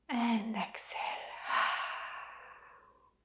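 A long audible exhale through the mouth during a standing yoga breathing exercise, a close, breathy sigh that rises quickly and then fades slowly over a few seconds.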